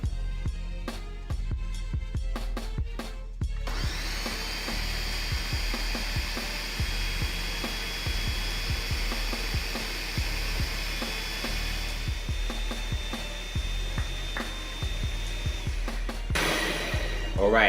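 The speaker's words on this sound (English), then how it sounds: "after 5 minutes of blending the sea moss, it has reached the consistency we were looking for" A blender running at high speed blends sea moss with water, a steady loud whirring drone with a rattling mechanical texture that persists for many seconds, briefly changing pitch near the end, with no speech over it.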